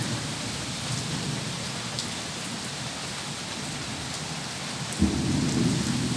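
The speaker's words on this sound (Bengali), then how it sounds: "যে দেখো বৃষ্টি হচ্ছে, বুঝতেই পারছো।" Steady rain falling outside on surfaces at dawn, a soft constant wash of drops with a low rumble of thunder swelling near the end.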